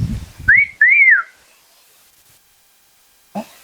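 Two rising-and-falling whistled notes from a person, loud and close, following a low murmur of voices, then silence and a brief soft thump near the end.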